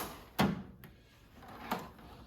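A small drawer in a garage shop toolbox slides open and shut, two short scraping clunks about a second apart, close and quiet against a still room.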